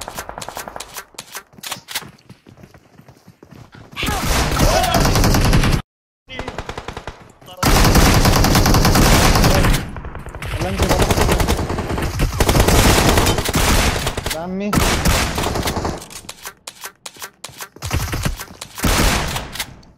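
Loud automatic gunfire in a shooter video game rattles in long, rapid bursts that nearly fill the stretch, with single shots scattered between them and one short silent gap.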